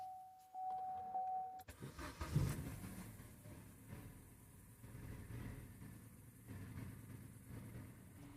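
A 2013 Vauxhall Astra 1.4 engine cranks and fires after a thermostat replacement, a short starter whir catching into a loud rev that settles to a steady close idle, preceded by a faint electronic tone.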